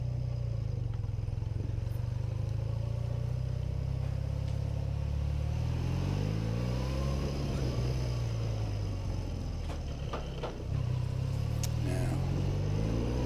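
A BMW R80 motorcycle rumbles at low speed as it turns into a car park in the Christchurch Port Hills, engine note rising and falling through gear changes, with wind buffeting and some clatter; no talk.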